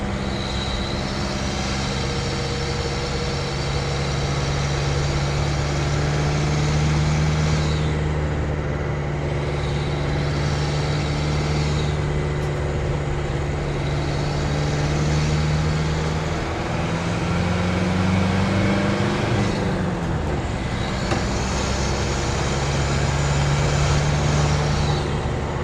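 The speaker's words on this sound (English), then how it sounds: "You can hear some induction noise" An engine-swapped 1988 Mercedes cruises along, its engine droning steadily from inside the cabin with a constant low hum and a faint induction whoosh that rises and falls slightly with throttle.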